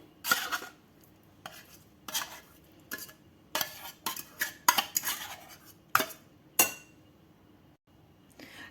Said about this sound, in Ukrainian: Тунець додали прямо із маслом в мисочку. Добре все перемішуємо.